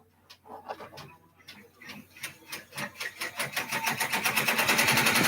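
A sewing machine stitches alone, starting with slow, uneven needle strokes and quickly speeding up into a fast, steady mechanical rattle that grows louder.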